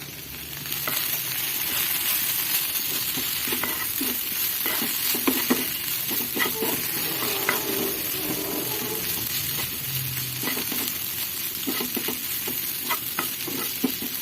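Okra frying in a pan with coriander and cumin, stirred steadily, giving a continuous close sizzle broken by scraping utensil strokes against the pan.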